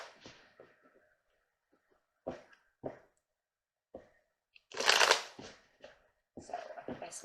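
Tarot cards are shuffled in short, close papery bursts, with a few separate flicks and taps and one longer riffle, in an otherwise quiet room.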